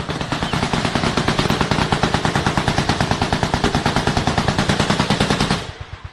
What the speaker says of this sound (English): We can hear heavy automatic machine gun fire in the distance,